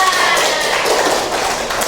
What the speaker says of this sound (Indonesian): Tepuk tangan dulu teman-teman.